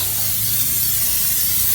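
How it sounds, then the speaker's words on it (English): Cooking spray hisses steadily onto hot grill grates on a RecTec Bull RT700 pellet grill, a close, continuous aerosol blast lasting the whole moment with no talk. "So right now I'm just going to put some spray down on the grates."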